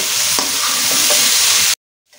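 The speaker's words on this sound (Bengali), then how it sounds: "1 টিস্পুন মরিচের গুঁড়া, আবার একটু নেড়ে নেব।" Chili powder being stirred into food frying in a pan, with scraping strokes over a continuous hiss of sizzling oil, loud and close, then cutting to silence near the end.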